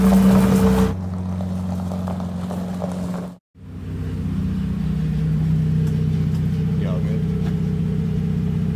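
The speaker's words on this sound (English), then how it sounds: "It's got an exhaust leak, you can hear that." A van engine with a rotted, leaking exhaust and muffler runs steadily at idle with a raspy, puffing exhaust note, dipping briefly to near silence partway through before resuming.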